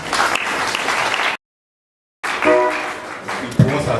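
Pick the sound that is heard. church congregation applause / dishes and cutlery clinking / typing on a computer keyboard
church congregation applause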